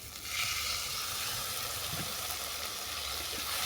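Ground spice water poured into masala that has been fried down in oil, giving a steady close sizzle and bubbling hiss throughout, with a few soft stirring knocks.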